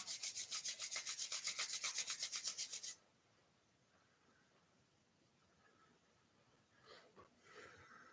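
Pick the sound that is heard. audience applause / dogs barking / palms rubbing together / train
palms rubbing together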